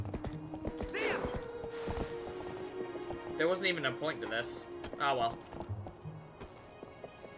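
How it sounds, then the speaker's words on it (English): Hooves of Epona, a horse in the Twilight Princess HD video game, clop under steady talk, with a brief whinny-like cry and small game sound effects mixed in. "Cooperating would be nice, you damn horse."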